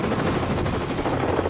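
An M134 minigun fires in a continuous, dense roar of rapid shots at about 50 rounds per second, loud and steady throughout with no gaps.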